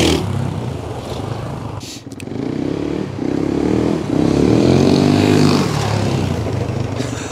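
A 1993 Husqvarna 610 WXC motorcycle engine roars nearby, its pitch climbing in sweeps as it accelerates and shifts through the gears, with a brief dip and clatter partway through before pulling loud again.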